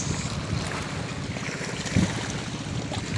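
Fishing boats out on the open sea, heard as a continuous low engine drone mixed with wind buffeting the microphone and the wash of waves, steady throughout with no one talking.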